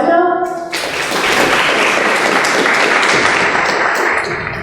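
Audience applause at a talk, a broad wash of clapping that starts abruptly after a short bit of speech and continues evenly for several seconds.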